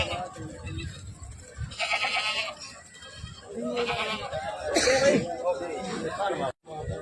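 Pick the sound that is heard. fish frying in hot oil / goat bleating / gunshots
goat bleating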